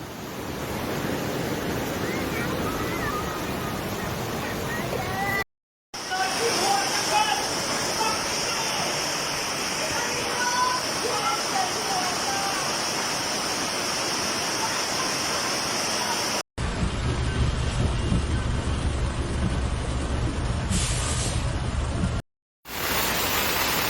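Storm floodwater rushes outside a house in Trinidad during heavy rain, a loud continuous roar of pouring and flowing water interrupted by brief cuts, with faint voices underneath.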